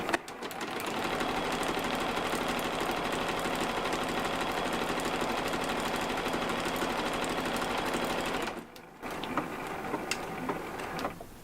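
A sewing machine running a blanket stitch with a small zigzag, its needle chattering in a fast, steady rhythm for about eight seconds before a brief pause and a short final burst.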